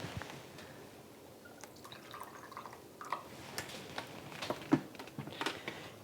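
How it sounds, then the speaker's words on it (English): Two tablespoons of water go onto Chinese char siu BBQ pork ribs, giving quiet, scattered drips and small splashes that grow a little sharper toward the end. "I'm also adding 2 tablespoons of water."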